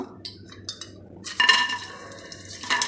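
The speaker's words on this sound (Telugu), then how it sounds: "నేను ఇందులో డ్రై ఫ్రూట్స్ వేసుకుంటున్నాను" Dry fruits frying in a pan for carrot halwa and kajjikayalu (gujiya), stirred with a utensil that clinks and scrapes against the metal, with a soft sizzle under the steady stirring; close and moderately loud.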